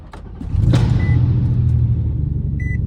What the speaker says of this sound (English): So it starts right up on its own and it idles